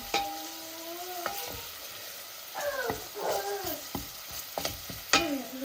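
Grated onion, garlic and carrot frying in a pan, with close, steady sizzling broken by repeated scraping stirs and utensil clacks against the pan, no voices.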